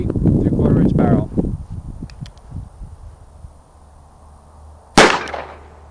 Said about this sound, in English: we're going to shoot it with our 22 long rifle, mini mag 40 grain round nose out of a Ruger